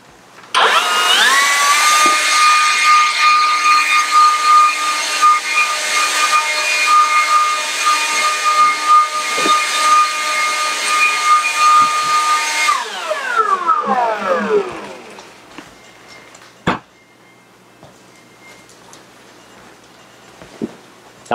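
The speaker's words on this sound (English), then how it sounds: "since this is a man household, we're going to use a blower" A loud electric blower cleaning the floor whirs to life, runs with a steady high-pitched roar for several seconds, then winds down, followed by a few faint knocks.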